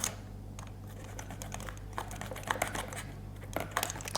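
A blade slicing into cardboard while making a cardboard reindeer, heard as a series of short, close scratchy crackles and snips over a steady low hum, with no talking.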